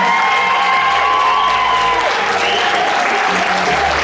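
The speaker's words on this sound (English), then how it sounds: "Now, just give them a big round of applause one more time" Sustained audience applause with some cheering fills a fashion show venue at the close of a Juneteenth fantasy fashion showcase, loud and steady throughout with no talk over it.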